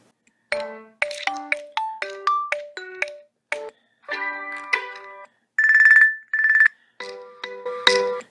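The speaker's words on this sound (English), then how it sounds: "Phone ringtone." An Android phone ringtone on a Nexus 6 plays a bright, bell-like quick melodic sequence of chiming notes, with a short sustained tone near the end, loud and clear.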